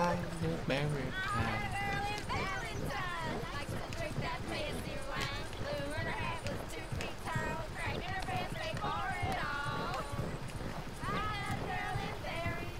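Horses gallop in Red Dead Redemption 2, their hoofbeats clopping rapidly and steadily under near-constant talking.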